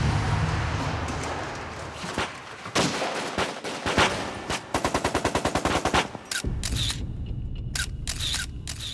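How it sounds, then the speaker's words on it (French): A shootout erupts with police caught in an ambush. Sustained gunfire roars close and loud, with dense bursts and rapid automatic volleys, and sharper isolated shots ring out toward the end. "Alors à ce moment-là, la fusillade démarre."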